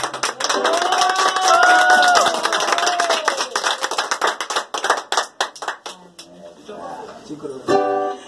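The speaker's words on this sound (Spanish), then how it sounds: "un aplauso bien bonito para él" A mariachi birthday serenade for Otoniel draws a round of close, bright applause from a small group, with voices calling out over the clapping at first, then scattered individual claps trailing off as someone speaks.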